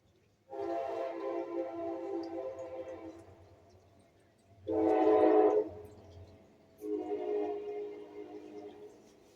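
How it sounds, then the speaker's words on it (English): A Thomas and Friends train sounds three long horn blasts, the middle one loudest, over a low rumbling engine and rail noise, with no talking. "Comes a train."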